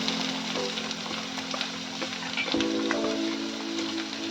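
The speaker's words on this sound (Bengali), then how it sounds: "তারপর কুচো পেঁয়াজগুলোকে অ্যাড করে দিলাম।" Chopped garlic and onions sizzle in hot oil in a home kitchen pan while matar paneer is cooked, a steady close crackling fry with a low hum underneath and a brief shift midway as more goes in.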